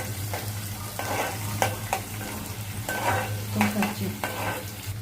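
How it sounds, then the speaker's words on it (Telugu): Sliced onions frying in a little oil until reddish-brown for a fish curry, with a steady sizzle and repeated scraping stirs of a spoon through the pan, close and unhurried, no voices. "కొంచెం ఆయిల్, ఉల్లిపాయలు ఎర్రగా ఫ్రై చేసుకోవాలి."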